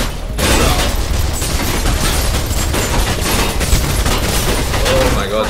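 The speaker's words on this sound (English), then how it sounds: "Oh my god, the gunshots." Dense, continuous gunfire and rumbling blasts in the video game Mirror's Edge fill the scene, loud and unbroken throughout.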